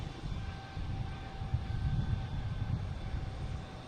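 A JetBlue Airbus A220 jet departs at an airport, heard as a low, steady engine rumble at a distance with a faint tonal whine above it.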